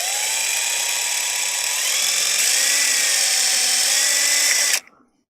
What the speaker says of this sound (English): That drill bit is dull